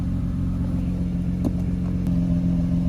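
A J-series engine in an Acura TL, tuned for more horsepower, idles while warming up, giving a steady, close, loud rumble with no talking.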